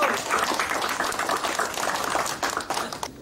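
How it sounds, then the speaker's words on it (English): Crowd applause at the Red Bull 3Style Indonesia DJ final, a dense wash of clapping that swells and then thins out toward the end. "So, big applause for Red Bull!"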